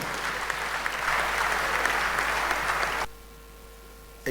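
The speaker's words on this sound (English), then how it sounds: "A round of applause for him." A live audience breaks into sustained applause during an interview honouring the Ooni of Ile-Ife, dense clapping lasting about three seconds before cutting off abruptly into quiet.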